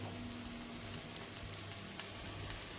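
Garlic sizzles steadily in a hot pan over cooking onions, a continuous close hiss of frying with an occasional small pop and no voices.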